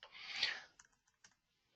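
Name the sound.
typing on a computer keyboard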